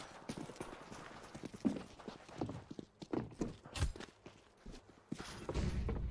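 Horse hooves clip-clop in the video game Counter-Strike 2, an uneven series of close, hard hoof thumps with a few louder hits and some background noise.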